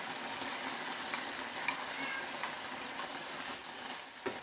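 A mixture of bell pepper, garlic and thyme sizzles steadily in a hot pan, with occasional scrapes and knocks from stirring, close and continuous with no talk.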